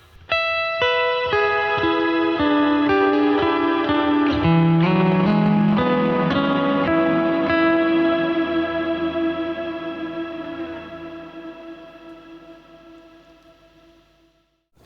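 Electric guitar through a CTC Mirage reverb pedal with shimmer engaged: a run of picked notes and chords blooming into a bright, octave-up wash that sustains and slowly decays over several seconds.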